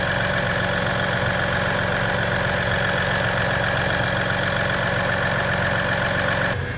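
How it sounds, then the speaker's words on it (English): The diesel engine of a 2017 Dodge Ram 1500 idles steadily and close by, a loud, even rumble with a faint tonal hum that cuts off abruptly at the end. "A shot of the exhaust with the motor running."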